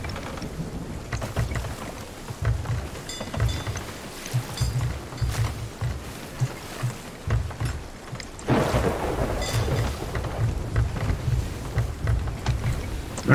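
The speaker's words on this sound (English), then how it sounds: "Of course it would be a typhoon." Typhoon at sea in the video game Sea of Thieves: heavy rain and wind roar steadily while rolls of thunder rumble low, swelling strongly past the midpoint, with no speech over the storm.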